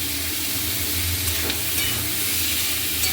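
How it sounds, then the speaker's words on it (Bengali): Chicken and onion fry in hot oil with a dense, steady, close sizzle that hisses continuously for a few seconds. "দেখো চিকেনটা দিয়ে, আর এখানে সেই পেঁয়াজটাকে দিয়েছিলাম, পেঁয়াজটা দিয়ে ভাজা ভাজা মতো করে নিই।"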